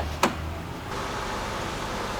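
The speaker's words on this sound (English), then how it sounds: "Let's go ahead and get the car started." A Mitsubishi Outlander starting up, with a sharp click and brief whir followed by the engine catching and settling into a steady, close idle hum.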